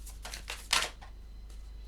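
Several soft, papery riffles of tarot cards being shuffled in short bursts, one louder flurry in the middle, close by in a quiet room.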